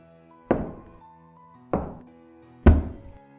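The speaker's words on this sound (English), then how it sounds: "The final knock on my cell door awoke me." Three heavy knocks on a room door, spaced about a second apart and sounding close, each a dull thunk with a short ringing tail, the last one loudest.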